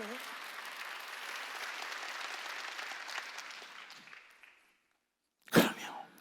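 A church congregation at a Sunday worship service claps in a dense, even patter that fades out after about four seconds, followed by a brief silence and a single sharp cough-like burst.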